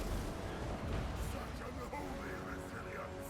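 Flame cannon artillery firing in the Total War: Warhammer 2 game, a dense continuous roar of battle blasts and crackling fire across the clip, heavy and loud with a commentator's voice layered over it.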